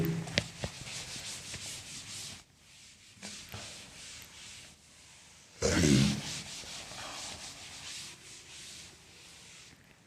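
An eraser rubs chalk or marker writing off a classroom board in bursts of dry scrubbing swipes separated by short pauses, with one louder, harsher stretch near the end.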